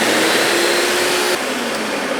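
A blender whirs steadily while mixing salsa, a loud continuous motor roar with a slight drop in pitch and level midway through, no talking.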